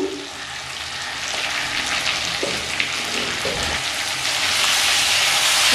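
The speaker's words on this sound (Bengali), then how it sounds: "ভালো করে কষিয়ে নিচ্ছি।" Spice paste for rohu fish curry sizzles steadily in hot oil in a pan, a loud, continuous close frying hiss with a few faint knocks.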